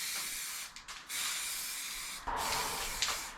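Paint sprayed from an aerosol can while repairing a chimney spark guard: several sustained, close hissing bursts separated by brief pauses, fairly loud with no talk.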